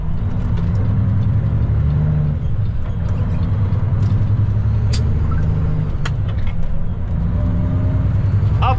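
Semi truck turning onto an on-ramp, a steady, loud diesel engine drone with a faint rising turbo whine and occasional air hisses, heard from the cab with little talking.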